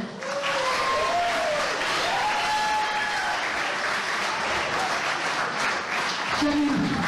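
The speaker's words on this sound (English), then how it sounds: "Give yourselves a round of applause." A crowd at an independent wrestling show gives sustained, dense applause for about seven seconds, with cheers and whoops rising over the clapping and a voice briefly heard near the end.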